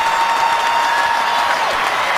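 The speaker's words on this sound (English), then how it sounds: "Crowd reacting" A stadium crowd at an NFL game between the Buffalo Bills and Indianapolis Colts applauds steadily, a dense, loud wash of clapping and cheering that holds evenly throughout.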